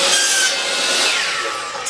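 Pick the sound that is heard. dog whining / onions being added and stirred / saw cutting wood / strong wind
saw cutting wood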